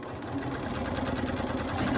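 Close sewing machine hums in a steady, even rhythm while stitching quilt pieces together, continuous and fairly loud with no talking.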